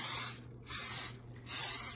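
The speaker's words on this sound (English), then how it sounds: "I'm going to spray my cake pan." Two bursts of aerosol cooking spray hiss onto a 13 by 9 cake pan, each about half a second, with a brief pause between them, close and fairly loud.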